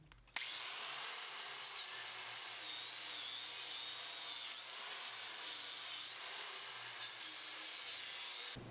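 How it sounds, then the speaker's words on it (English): Wire brush scrubbing a fresh MIG weld on pipe and angle iron, a continuous bright, harsh scraping rasp with slight surges in rhythm, close up and alone. "So I'm just going to hit this with the wire brush, clean that off a little bit"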